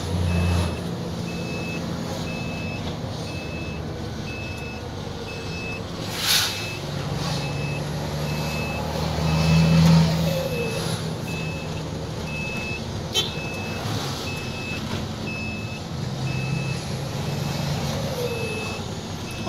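An Isuzu FXZ360 diesel truck with a fault causing low revs and lost power idles with a steady low rumble while a reversing beep repeats at an even pace and occasional air-brake hisses break through.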